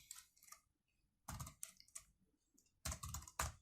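Computer keyboard typing in an IPython console: short bursts of quick, close key clicks separated by brief pauses, with no talking.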